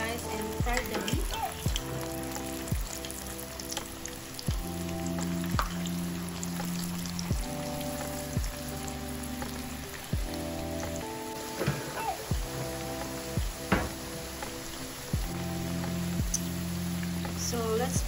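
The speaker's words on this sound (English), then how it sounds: "So let's fry the beef for about like 4 to 5 minutes." Beef fries in hot oil in a pan, giving a continuous crackling sizzle that sounds a lot like rain. It runs steadily at moderate loudness while a low background hum plays underneath.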